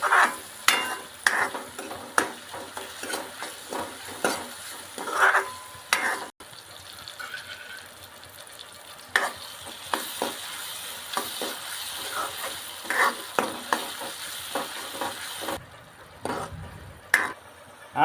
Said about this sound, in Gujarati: હલાવી નાખીએ